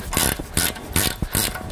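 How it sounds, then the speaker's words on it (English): A ratchet wrench with a T50 Torx bit clicks in four quick bursts while removing a rear brake disc retaining bolt on a 2016 Range Rover Sport, close by and fairly loud, with short pauses between each turning stroke. "Now we'll use a T50 Torx bit to remove the disc retaining bolt."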